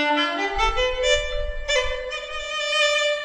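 A Sundanese instrument plays notes of the laras salendro pentatonic scale, clear plucked or bowed tones stepping upward one after another then holding a sustained pitch, close and alone with faint low background noise.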